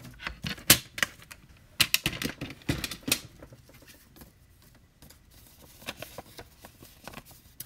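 Paper for a handmade card being cut on both sides, heard as a quiet run of crisp snips and clicks in irregular bursts, with short gaps between them and no voices.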